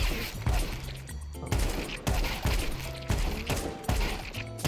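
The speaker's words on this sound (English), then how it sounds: "I have my AK, and you can just shoot them around" Gunfire from an AK rifle aimed at bots in the Counter Strike 2 video game, with several loud bursts of shots spaced across the clip and no talking.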